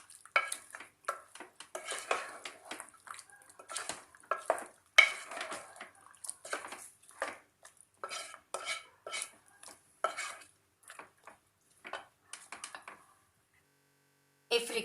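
Chicken masala with cashew nut paste stirred in a pan with a spoon, giving repeated close scraping and clinking strokes in an uneven rhythm, a soft sizzle underneath, then a short pause near the end.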